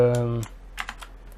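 A voice trails off, then a few quick clicky keystrokes sound close up on an Ajazz AK33 mechanical keyboard.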